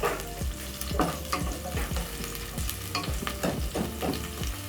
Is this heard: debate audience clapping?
no